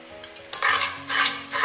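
Melted rock sugar and cooking oil are stirred in a wok over high heat, with a few close scraping bursts of the spatula over a low sizzle.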